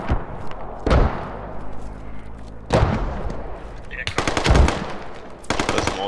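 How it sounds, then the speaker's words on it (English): Mortar blasts and bursts of gunfire in the military shooter game Squad: heavy booming thuds at intervals, followed by rapid machine-gun volleys late on, loud over a rumbling battlefield background. "Those mortars are a lot better."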